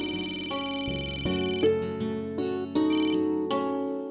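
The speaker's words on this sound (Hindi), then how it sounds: "प्रिया का फोन।" A phone ringtone plays a bright, repeating electronic melody, loud and close, with no voices over it.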